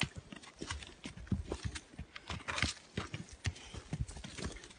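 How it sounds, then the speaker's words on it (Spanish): Four donkeys walk over rocky hill terrain, their hooves clip-clopping in an uneven, overlapping rhythm close by, with a few faint animal noises mixed in and no talk. "Llevo cuatro burros."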